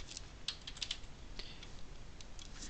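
Quiet keystrokes on a computer keyboard while typing into Notepad on Windows 10, a loose run of light, uneven clicks with small pauses, faint and close.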